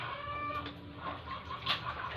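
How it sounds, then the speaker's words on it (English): A household chicken clucks near a home in the Philippines, its short rising calls breaking through a faint busy background, with one louder squawk near the end. "Did I hear our chicken?"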